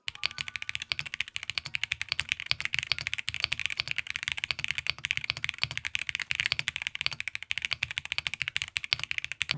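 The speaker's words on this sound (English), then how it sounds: "I combine these with the MonsGeek M1 mechanical keyboard" Continuous fast typing on a MonsGeek M1 mechanical keyboard, a dense run of crisp, close clacking keystrokes at a steady rhythm with no voices.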